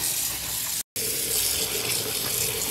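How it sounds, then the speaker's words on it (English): Extra hot water runs from a sink tap in a steady, close gush with a brief cut partway through. "Turn this extra hot water on."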